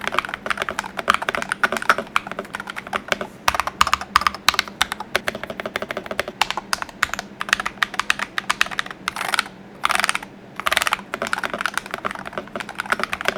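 Steady typing on a Gamakay x Naugh Shark NS68 mechanical keyboard, close and clear, with quick irregular clacks and a few brief pauses, no voices.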